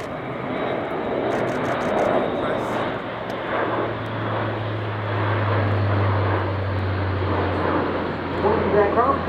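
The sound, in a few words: Airbus A400M Atlas military transport aircraft flying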